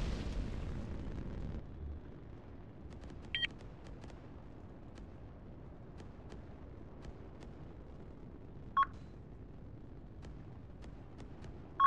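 Incoming artillery rounds in a battle game land with a rumbling blast at the start that fades into low ambience, while short sharp beeps sound at intervals.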